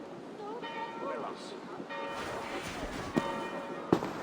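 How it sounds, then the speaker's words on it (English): Church bells ringing at a monastery in the Viking-age world of Assassin's Creed Valhalla, sounding as faint, sustained tolling tones in a quiet ambience, with a couple of brief sharp knocks near the end. "Do you not hear the bells?"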